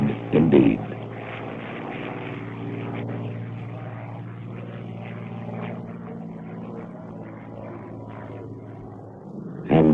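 A Supermarine Spitfire warplane flying overhead, its propeller engine holding a steady droning hum that swells and fades gently over ten seconds, with brief bursts of other sound at the start and end.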